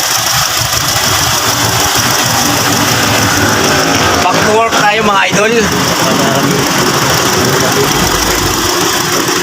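A Hyundai Kona engine idles steadily and loudly up close during a service check, a constant mechanical rumble, while someone speaks briefly over it.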